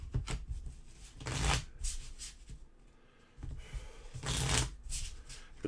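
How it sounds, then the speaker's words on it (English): Playing cards shuffled by hand, with two loud riffle bursts and softer handling and bridging of the deck in between, close up, with no talking. "So let's reshuffle here."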